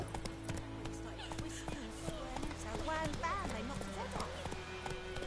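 Hooves of the horse Roach clip-clop at a gallop in The Witcher 3, a steady rhythm running under game music and spoken lines for the whole stretch.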